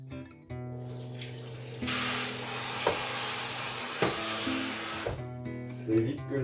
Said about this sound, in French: On rince aussitôt la passette.